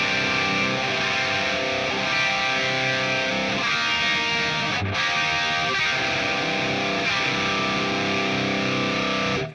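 An electric guitar plays heavy metal chords through a NUX amp on its VH4 model with an early-2000s or 90s metal tone. The sound is thick and distorted and stays loud and unbroken, with sustained chords and a brief break near the middle.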